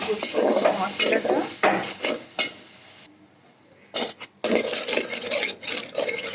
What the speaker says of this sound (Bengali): মশলাটা মশলা কষানো হয়ে যাচ্ছে